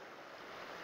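Ocean waves surge steadily as a dense, continuous wash of surf at a California fishing spot for opaleye, with a bit of wind rumble and no talking.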